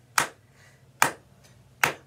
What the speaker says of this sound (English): I clap